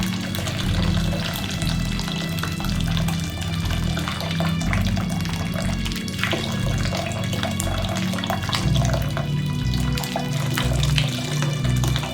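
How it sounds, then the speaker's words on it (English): Hot grape juice pours and splashes continuously into a jelly bag, a close gurgling stream with a low rumble underneath, steady for the whole stretch. "It's splashing hot grape juice all over my hands"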